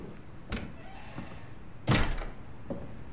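A heavy door slams shut in the horror game SOMA, one loud close thump standing out, with a softer knock just before it and a lighter thud after, over a quiet dark ambience.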